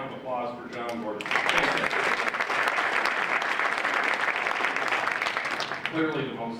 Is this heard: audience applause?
yes